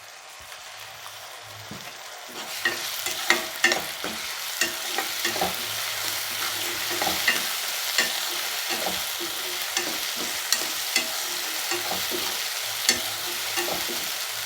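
Ginger garlic paste sautéing with onions in a pan for prawn thokku, a steady hiss of frying punctuated by regular scraping stirs of a spatula, close and continuous without talk.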